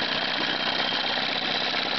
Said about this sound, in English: the motor will start to gallop and four-stroke pretty heavily